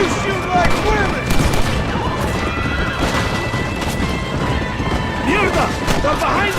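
Gunfight from the western game Red Dead Redemption, scattered loud shots and crashing impacts mixed with horse whinnies and shouting voices, the action continuing without a break.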